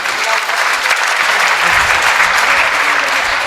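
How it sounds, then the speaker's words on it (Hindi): Loud, dense applause from a crowd of listeners at a kavi sammelan poetry gathering, a continuous wash of clapping close by with no talk. "एक बार जोरदार तालियां होनी चाहिए।"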